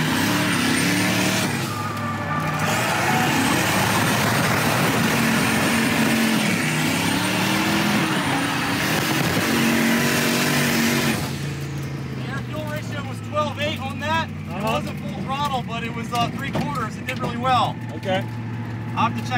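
A Mazda Miata drift car at a USDrift winter event, its engine droning loud and steady before dropping away to a quieter idle, with voices talking over it.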